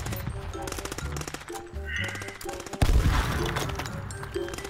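A flashbang grenade goes off in the H1Z1 video game, giving a sudden loud burst about two-thirds of the way in amid dense gunfire and game noise, with players talking throughout.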